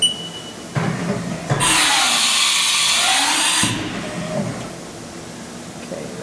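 Automatic tool change on a Haas VF0E vertical machining center: a brief whir and clunk, then a loud, broad mechanical rush lasting about two seconds before easing back to a steady machine hum, close by with no talk.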